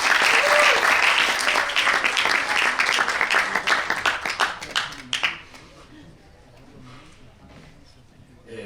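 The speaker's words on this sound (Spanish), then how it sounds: "Le damos un aplauso y lo recibimos en el escenario." Loud applause from a conference audience fills the first five seconds as a speaker is welcomed on stage, then fades quickly into a quieter room with faint murmuring.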